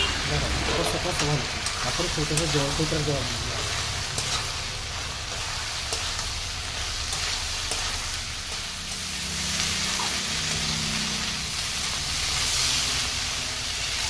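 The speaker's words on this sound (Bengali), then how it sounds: "আমি এখানে ভেজে রাখা সোয়াবিনগুলো দিয়ে দিলাম। তো আবারও 5 মিনিট মতো নাড়াচাড়া করে ভেজে নিব।" Fried soya chunks sizzle in a pan as they are stirred, a steady crackling hiss with scraping stir strokes, while a voice talks over the early part.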